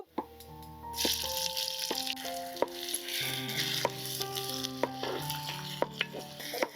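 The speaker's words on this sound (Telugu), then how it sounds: "ఒక నాలుగు ఉల్లిపాయలు అండి ఇలా చీలికలు చేసుకున్నాం ముందుగా ఇది వేపుకుందాం" Sliced onions fry in oil with mustard and fenugreek seeds, a continuous sizzle with light stirring scrapes and occasional pops, heard under steady background music.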